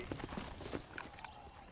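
Horse hooves clip-clopping in the Red Dead Redemption video game, a short run of soft, evenly spaced hoofbeats near the start that fades under quiet ambience.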